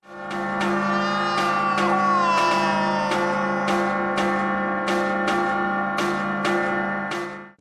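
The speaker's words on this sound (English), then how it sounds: "Talia, losing control over her senses, grabs onto the bell ropes, and the resulting sound sends Vertigo for a swim in the river." A church bell in an animated Batman series rings in quick, repeated strikes, about a dozen bright clangs over a sustained, droning hum, loud and close.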